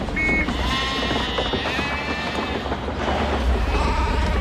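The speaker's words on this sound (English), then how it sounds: "What the hell are these sheep doing here?" Sheep bleat repeatedly on a windy military field in a war comedy, several calls rising over steady wind and background noise, fairly close.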